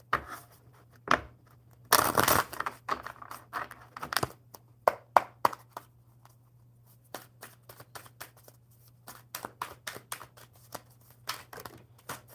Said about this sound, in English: One more good shuffle for Susan.